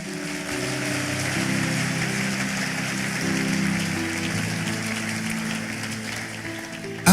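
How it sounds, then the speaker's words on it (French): A church congregation in Kinshasa claps steadily in a dense, sustained wash of applause that holds evenly throughout, ending with a sudden louder burst. "Nous acclamons pour la parole de Dieu."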